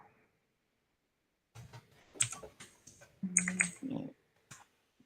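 Typing on a computer keyboard, bursts of clicking keystrokes at close range after a silent pause, with a few louder clacks mixed in.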